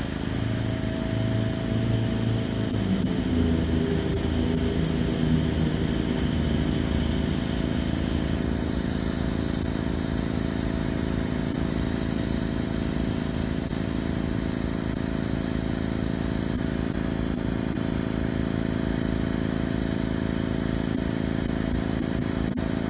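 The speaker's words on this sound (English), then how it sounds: "Harbor Freight compressor is now over a year old, and it has been used and abused" A Harbor Freight air compressor, over a year old and heavily used, runs alone for an airbrush, giving a continuous close engine-like hum and whine that rises slightly in pitch at first and then holds steady.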